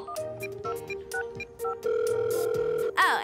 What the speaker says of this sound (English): And finally, the long distance phone call.